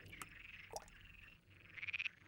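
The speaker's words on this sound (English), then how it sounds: "This frog can be heard in a more normal acoustic band." A frog gives a rapid series of pulsed croaks near the end, rising out of a soft, hissy natural background after a few faint earlier chirps.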